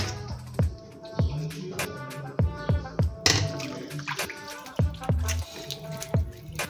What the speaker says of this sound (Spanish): continuamos a lavar nuestro pollo